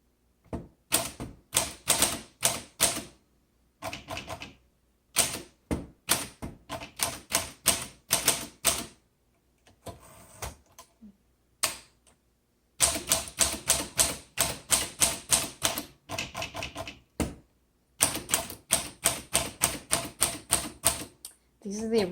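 Typing on a 1938 Corona 2C vintage portable typewriter: rapid bursts of crisp, close mechanical keystrokes separated by short pauses, with occasional heavier clacks as the carriage is returned.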